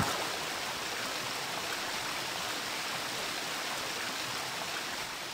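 Steady flowing sewer water in the Thief game rushes continuously like a stream, a broad, even wash of noise with no other sounds over it.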